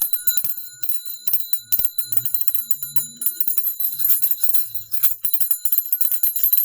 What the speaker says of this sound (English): I know I was going to ring that bell